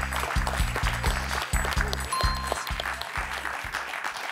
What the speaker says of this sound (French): De gros beaux applaudissements pour Pierre, quand même, là, qui nous a bien impressionnés.